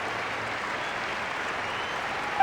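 A crowd applauds in a Genshin Impact cutscene, steady dense clapping held evenly throughout at moderate volume, with no talking over it.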